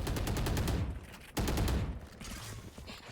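Rapid gunfire in a Valorant match: dense bursts of shots, a short pause, then another burst, moderately loud.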